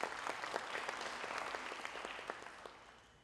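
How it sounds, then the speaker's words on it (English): A crowd applauds steadily at a graduation ceremony, many claps blending into a dense patter that fades slightly toward the end. "a big round of applause"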